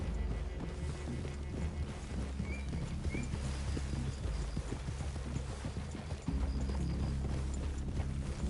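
Horses clip-clop at a steady walk through a video game clearing, their hoof beats faint and continuous over a low background rumble, with no talk.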